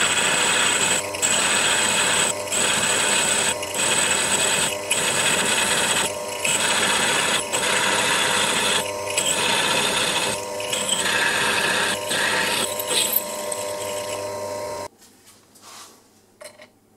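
A 5 mm tap drill boring a hole in metal for an M6 thread, for a toolmaker's vice stop: a steady, loud mechanical whir with regular brief dips, running about fifteen seconds before dropping to a faint, quieter tail.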